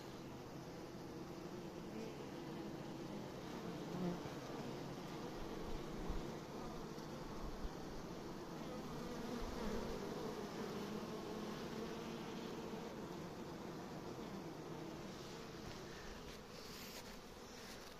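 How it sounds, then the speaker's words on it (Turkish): Honeybees from hives of swarm bees and pure Caucasian queen stock buzz in a dense, steady, close drone throughout a hive inspection, with no pauses. "Bunlar oğul arısı."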